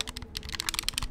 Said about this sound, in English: That's me spamming the X button to talk to him.